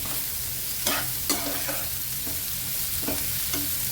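Capsicum, tomato and onion fry over a high flame with a continuous close sizzle. Sharp stirring and scraping strokes break in every second or so, and no one speaks.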